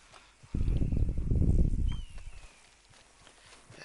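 Horse hooves walking in the Red Dead Redemption 2 video game, a burst of close, heavy clip-clop steps lasting about a second and a half before fading to quiet outdoor ambience with faint birdsong.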